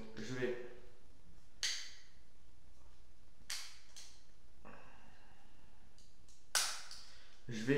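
A Drulov 70 .22 LR pistol's action is worked with three sharp, separate metallic clacks spaced a couple of seconds apart, close and crisp against a quiet room.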